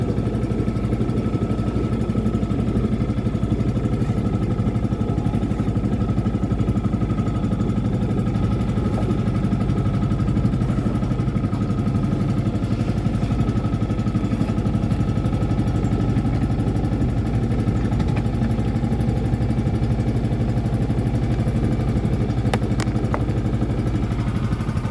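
A boat engine drones steadily throughout a first test ride aboard a new boat, a loud continuous mid-pitched hum with faint clatter and no break.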